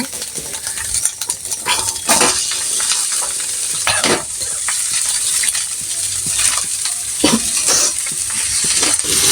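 Eggs and carrots frying in a pan while being stirred, a steady sizzle broken by repeated scraping strokes and light clinks of the spatula against the metal, close and continuous.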